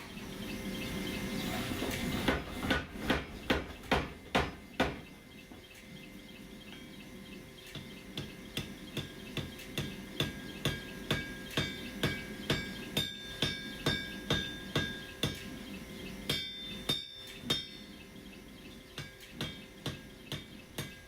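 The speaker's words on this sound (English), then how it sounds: "Four-pound hammer, wide flat face, keeping it nice and hot." Blacksmith forging a hot blade tip with a four-pound wide flat-faced hammer on an anvil, a long series of sharp ringing metallic strikes in steady rhythm with brief pauses, close and clear.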